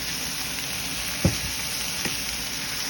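Chicken sautés in avocado oil in a cast iron pan, a steady close hiss of sizzling with a couple of brief clinks or stirring knocks partway through, no voices.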